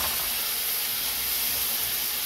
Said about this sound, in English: that's just steam